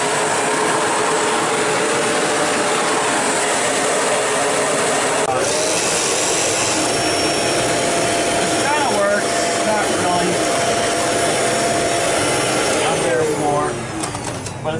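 A lift-away vacuum cleaner runs on a floor, giving a loud, continuous motor roar and whine throughout, with occasional rattling mechanical clicks and a slight change in pitch toward the end.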